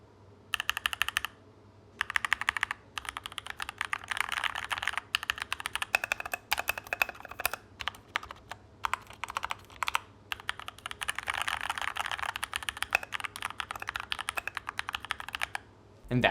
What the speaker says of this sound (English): here's the sound test of the Keychron K2 V2